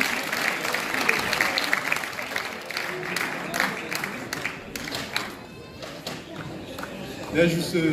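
Crowd applause at a youth sports awards ceremony in Florange, sustained clapping from a hall audience over a murmur of voices, with a brief louder swell near the end.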